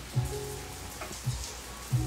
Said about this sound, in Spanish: ¿Se escucha la lluvia?